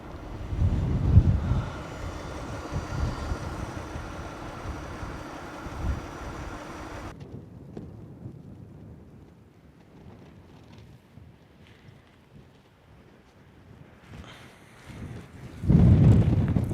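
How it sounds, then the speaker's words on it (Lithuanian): Wind blows across a high Romanian mountain road where it ends, buffeting the microphone in low rumbling gusts that drop to near quiet midway and surge again at the end. "Vėjas pučia"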